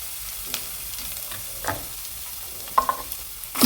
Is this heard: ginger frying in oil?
yes